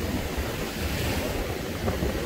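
Sea surf washing steadily onto a beach in Bulgaria, a loud, continuous roar of breaking waves mixed with wind buffeting the microphone, with no voices.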